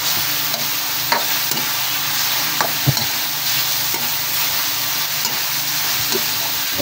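Pork sizzling in a pan for an ampalaya dish, a steady close hiss of frying with scattered clinks and scrapes of a utensil stirring the meat.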